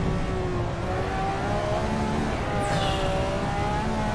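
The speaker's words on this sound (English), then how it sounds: "Drifting in F1 car like it's nothing." A 1966-era Formula 1 car drifting around Spa in Assetto Corsa, its engine holding a steady, sustained whine with tonal harmonics over a constant roar, loud and close throughout.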